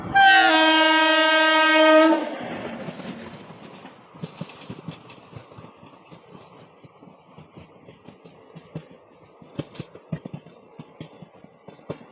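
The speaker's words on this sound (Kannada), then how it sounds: "ನಮ್ಮದು ಯಾವುದೋ ಬಂತ್ರಿ ಗಾಡಿ ತಡ್ರಿ 1 ನಿಮಿಷ ನೋಡಿರಿ ಕವರ್ ಮಾಡ್ಕೊಂಡ್ರಿ ಹುಬ್ಳಿ ರಾಮೇಶ್ವರಂ ಎಕ್ಸ್ಪ್ರೆಸ್ ರೀ ಇದು" The Hubli–Rameswaram Express, an Indian Railways passenger train, sounds a loud, sustained two-second horn close by. The horn is followed by a long run of rhythmic wheel clatter and rattling as the coaches roll past.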